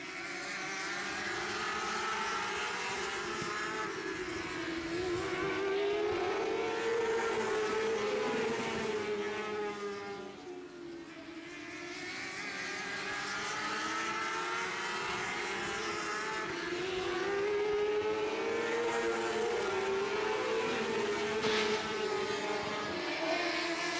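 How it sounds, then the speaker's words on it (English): Can-Am Midget race cars circle Grand Bend Speedway, engines droning and rising and falling in pitch as the pack passes, loud and continuous with a brief dip midway. "So the Can-Am Midgets make a great time around Grand Bend Speedway"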